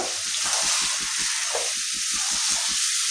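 Hilsa fish frying in a pan with mustard paste and green chili, a steady bright hiss and sizzle running throughout, with a faint low rhythmic pulsing underneath and no talking.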